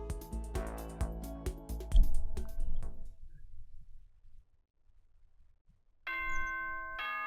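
A doorbell chime in the Danganronpa video game rings out in a bright descending run of tones and fades into near silence, then a sustained electronic chime tone starts up again.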